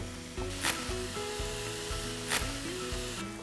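Ground pork sizzles steadily in a pan for an Egg Roll in a Bowl dish, a soft, even hiss with a few brief scraping swells, under light background music.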